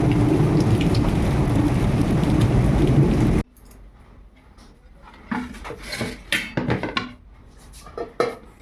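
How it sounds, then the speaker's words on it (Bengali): Rain falling during a thunderstorm at night: a dense steady downpour for the first few seconds, then lighter scattered drips and patters on surfaces after it cuts off. "বৃষ্টি তো এখনো পড়তেই আছে"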